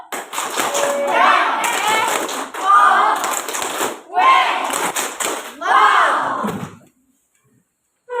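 A primary school class performs a chanted clapping routine, with bursts of children's voices shouting in unison broken by short pauses, claps mixed into each phrase, before the room falls silent.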